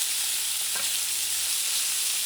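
A chuck eye steak sizzles in a pan of butter with garlic and herbs, a dense, loud, continuous hiss with a brief spoon clink as the fat is basted over it.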